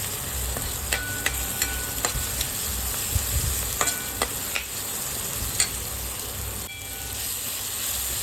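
Dried fish fries with tomato in a pan for a spicy chutney, a steady sizzle under repeated scraping and stirring clicks of a spoon, close and continuous throughout.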